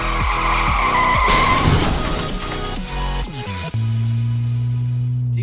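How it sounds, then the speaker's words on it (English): A car revs and skids with tire squeal for the first few seconds, loud and close, then settles into a steady engine drone with a sharp transient near the end; no talking. "Do you hear that? Do you hear my car?"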